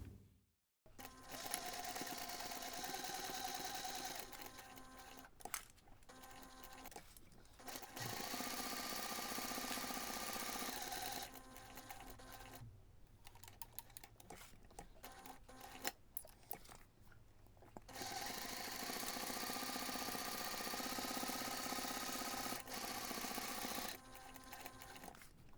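A sewing machine stitches a pleated patch pocket seam in long, steady whirring runs, stopping briefly several times to pivot the fabric before carrying on, close and clear with no talking.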